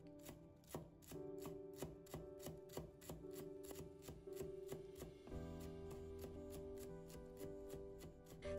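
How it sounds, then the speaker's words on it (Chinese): A knife chopping fresh coriander on a cutting board, quick rhythmic taps that speed into a steady rapid chopping run, close and fairly quiet with no speech. "把香菜切成小段。"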